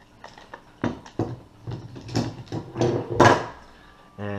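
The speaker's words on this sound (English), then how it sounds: "Okay, I'm gonna pop the clamp off." A clamp is worked loose and popped off a soft plastic fishing lure mold, giving several close clicks, scrapes and knocking handling noises in quick irregular succession.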